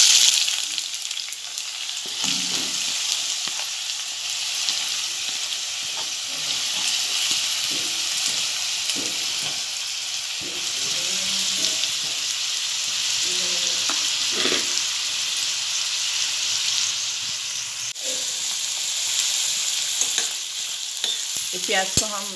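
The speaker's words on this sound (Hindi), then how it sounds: "अब मैं उसमें कटी हुई प्याज डालूँगी।" Chopped onion sizzles steadily in hot oil in a frying pan on a gas stove, a loud continuous fry with occasional stirring scrapes throughout, no voices.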